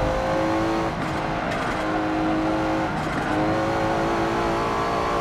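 A Nissan GT-R R34 on a fast lap in Forza Motorsport 7: a steady, loud engine drone runs throughout, with brief dips and re-rises in pitch as it shifts gears.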